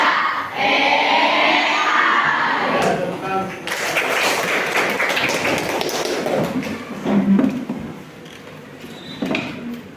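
A sixth-grade class at an elementary school claps the rhythmic tepuk AI pattern in counted groups of three, a dense roomful of hand taps and thuds with children's voices mixed through it.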